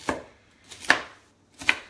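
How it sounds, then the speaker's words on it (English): Fresh carrots chopped with a knife on a cutting board at home, three crisp, close knife strikes spaced about a second apart with short silences between them and no talking. "So now I'm just chopping up these carrots."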